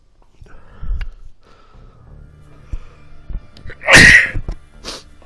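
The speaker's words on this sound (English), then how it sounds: "Apologize for the sneeze" A single sharp sneeze bursts out close to a partly covered microphone, preceded by a quick intake of breath and faint game noises, then trails into a short exhale.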